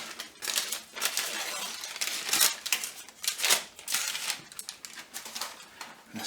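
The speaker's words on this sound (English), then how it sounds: "Take the paper off." Baking paper peeled off a freshly baked Welsh Bara Brith loaf, a close, crinkly rustle and tearing crackle in uneven bursts, fairly loud and continuous for several seconds.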